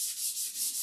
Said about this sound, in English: You sure you're not sanding the fiberglass?